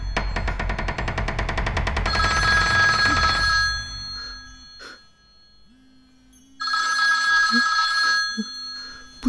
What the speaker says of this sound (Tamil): ஃபோன் சவுண்ட் கேட்குது.